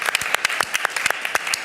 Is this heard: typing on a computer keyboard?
no